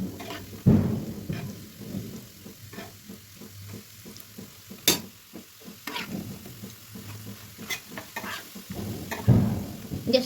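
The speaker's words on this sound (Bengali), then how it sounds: "একটু লাল লাল করে ভেজে নিতে হবে তাহলে মুচমুচে হবে" Slices of bread coated in gram flour batter fry in hot oil, giving a soft steady sizzle broken by occasional sharper crackles and scraping stirs, close and moderately quiet with no talking.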